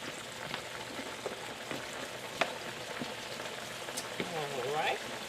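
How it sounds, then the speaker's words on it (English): A pot of vegetables being stirred in a home kitchen, with a soft bubbling sizzle and a few light scrapes and clinks over the steady cooking noise, and a brief voice near the end. "Go ahead and stir this up."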